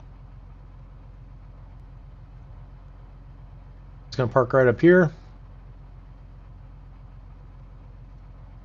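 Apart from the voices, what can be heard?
small aircraft engine running while parking on ramp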